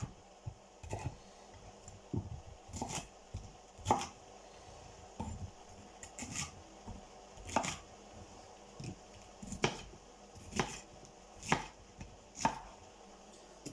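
Peppers chopped on a cutting board, a series of about a dozen distinct knife thuds in an uneven rhythm, close and moderately loud, with no talking.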